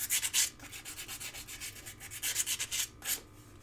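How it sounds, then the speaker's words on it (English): Sanding with 600-grit sandpaper on a wrapped-tube jewelry piece from 24 gauge sheet, quick rhythmic rubbing strokes in repeated bursts, close and alone. "do take the time out to give a little tiny bit of sandpaper. This is 600 sandpaper"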